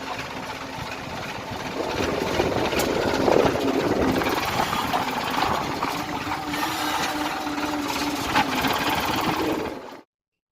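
A JCB excavator works outdoors while a tractor is loaded, its engine a steady mid-pitched drone with faint clanks for about ten seconds before cutting off abruptly.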